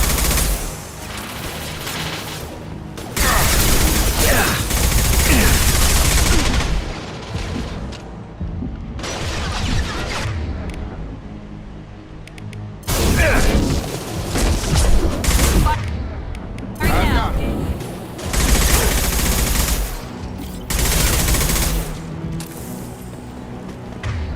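Repeated bursts of gunfire from the Mass Effect 2 sci-fi shooter, heard during Jacob's father mission. Loud, close volleys of shots come in several dense clusters with short lulls between them, layered over game ambience and faint voices.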